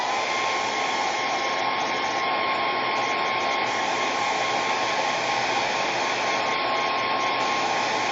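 Hair dryer blowing on a Chalk Couture craft piece, a loud steady whine and rushing air that runs unbroken throughout, close by.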